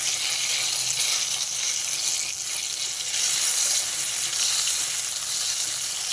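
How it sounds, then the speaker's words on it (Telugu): Stuffed brinjal parcels (vankaya potlam) sizzle steadily in a hot pan, a continuous close, even frying hiss with no voices. "ఇప్పుడే మగ్గుతున్నాయండి ఒకసారి వీటిని తిరిగేసుకుందాం"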